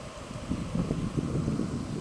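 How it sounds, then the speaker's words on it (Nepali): Wind gusts outdoors at a fishing spot, buffeting the microphone in a low rumbling burst for a couple of seconds with no talk. "ओहो हावा आइगयो"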